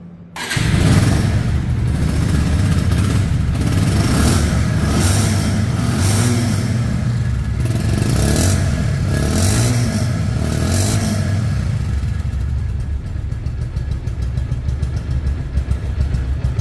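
A 2022 Bajaj Pulsar single-disc motorcycle in showroom condition starts up, then revs in several rising bursts, close and loud, settling toward idle near the end.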